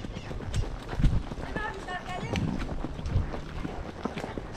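Horse hooves clip-clop in an irregular rhythm, close and fairly loud, with someone talking in Portuguese over the steps.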